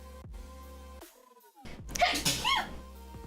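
A single loud sneeze bursts out after a short silence on a livestream, with a brief noisy tail.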